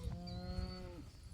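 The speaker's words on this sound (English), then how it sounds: "which cow is bawling to it" A cow out on high-density grazing pasture gives one low, drawn-out moo lasting about a second, calling to a heifer calf from fairly far off against a quiet outdoor background.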